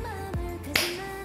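Sharp percussive claps punctuate the pre-chorus of a K-pop song, two crisp hits a fraction of a second apart over the sustained melody of the track.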